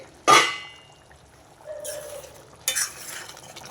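A metal lid clanks onto a pot of drumstick masala curry with a sharp clatter, followed by softer scraping and a second clink as it settles.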